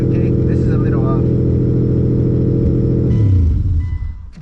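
A third-generation Mitsubishi Eclipse engine idles high and steady close up, dropping in pitch and settling near the end, with voices talking over it.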